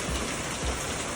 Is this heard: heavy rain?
yes